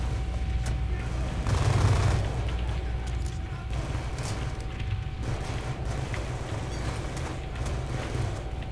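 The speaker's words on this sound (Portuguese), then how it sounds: "Alguém atirando em mim?" Distant rattling gunfire in Call of Duty Black Ops II, bursts of shots over a steady low rumble of battle, fairly quiet throughout, with someone talking over it.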